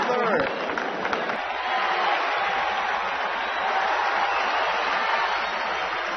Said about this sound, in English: The crowd cheering to try to get Pete Sampras charged up